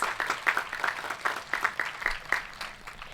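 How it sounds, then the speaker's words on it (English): Applause from a high school graduation crowd for senior basketball players, fairly faint and distant, with separate claps standing out in an uneven patter across the hall. "Let's give them a huge round of applause."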